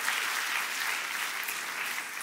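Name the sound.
congregation applause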